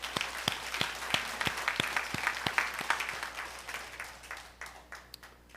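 A church congregation claps in a sharp, fairly even rhythm that starts strong and gradually thins and fades, the individual hand claps distinct and moderately close.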